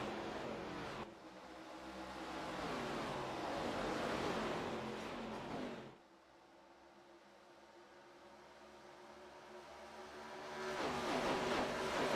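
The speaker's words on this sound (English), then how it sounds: "Listen to these V8 ARCA cars sing." V8 ARCA stock cars race at Chicagoland Speedway in the iRacing simulator, engines roaring loudly as the pack passes, easing off, then building again, with no talking.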